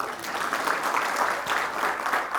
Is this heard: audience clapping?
yes